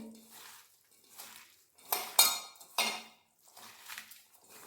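Chicken pakora batter with spices being mixed by hand in a metal bowl, giving a few close clinks and scrapes against the bowl in short, irregular bursts, with quiet pauses between.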